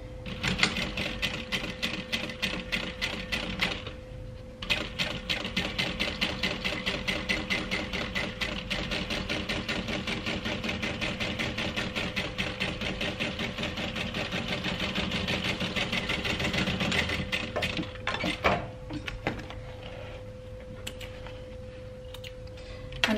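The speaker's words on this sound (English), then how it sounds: "And then this part gets top stitched" Close-up, a sewing machine top stitches a handbag panel at an eighth-inch seam, its rapid rhythmic needle clatter and motor drone running long and steady, with a brief pause near the start and a slowdown and stop toward the end.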